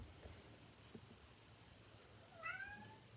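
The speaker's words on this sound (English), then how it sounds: "That's Kitty going, attention, meow." A house cat gives one short, faint meow late in an otherwise quiet indoor stretch, heard alone with no talking.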